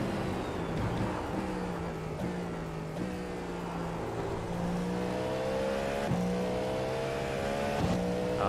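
Race car engine in a Daytona 24-hour racing video game, revving up through the gears in repeated rising whines with brief drops at each shift, loud and continuous.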